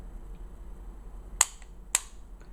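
Spyder Electra paintball gun being uncocked, giving two sharp, close pops about half a second apart, each trailing off in a brief hiss of escaping air, in an otherwise quiet room.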